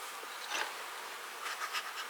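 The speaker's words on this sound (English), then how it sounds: "Smoker, get the bees out of the way" Honey bees buzzing in an open hive during a beekeeping inspection, a soft, steady hum with slight swells, fairly faint and close, with no talking.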